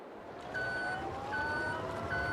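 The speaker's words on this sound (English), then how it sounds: "listen to the reverse sound" An electric forklift in Farming Simulator 22 gives out its reversing alarm: three evenly spaced, clear electronic beeps over a soft engine hum.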